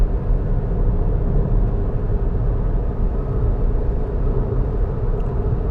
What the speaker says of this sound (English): as you may hear, on roads like this at faster speeds, it is quite a noisy car